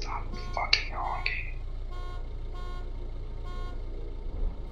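Vehicle horn in a video game on a road, sounding in three or four short, evenly spaced honks after a brief burst of voices at the start, with a low engine drone underneath.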